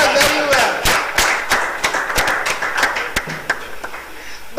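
Scattered clapping from an audience at a live quiz competition, a few separate sharp claps spread out at an uneven pace, fairly close, with voices murmuring underneath.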